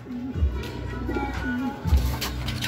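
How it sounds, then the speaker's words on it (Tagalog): A racing pigeon coos in low, soft repeated calls, two clear bursts close by over a steady background hum, with faint chirps around it. "Meron tayong isang ibon ulit."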